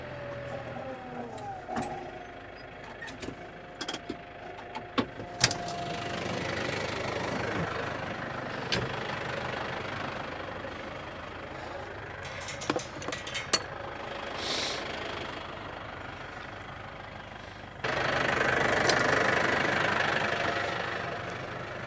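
Small motorised lawn roller engine idling and chugging steadily as it rolls a lawn footpath, a continuous mid-pitched drone with occasional clicks and knocks, louder near the end.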